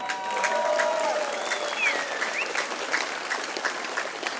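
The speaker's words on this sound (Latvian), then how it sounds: "Aplausi!" Applause at the opening ceremony of a fountain sculpture in a city, a steady crowd clapping for the full stretch with a few cheering whistles rising above it.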